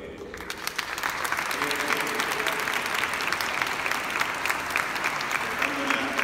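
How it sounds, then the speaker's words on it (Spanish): An audience inside a church applauds a priest after a conference talk, with steady, loud, full clapping throughout and some crowd voices mixed into the sound. "Vamos a darle un fuerte aplauso al padre Rafa"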